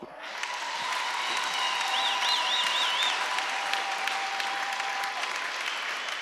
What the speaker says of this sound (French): Est-ce qu'on peut acclamer le roi?